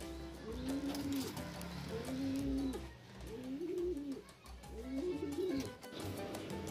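Racing pigeons coo nearby in four rolling, repeated calls over a low rumble of background noise.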